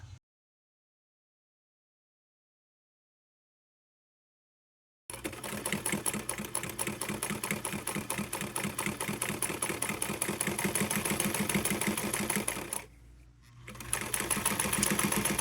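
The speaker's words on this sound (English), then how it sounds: "Yes, I'm sewing more of these crazy bags" A sewing machine stitches fabric bags after several seconds of silence, running in a fast, close, steady mechanical rattle that briefly pauses near the end before starting again.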